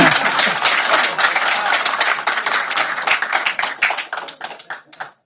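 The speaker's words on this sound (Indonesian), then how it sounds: "Awas, tepuk tangan Pak." A room full of people applauds with brisk hand clapping, loud and dense at first, then thinning out into scattered claps that fade away toward the end.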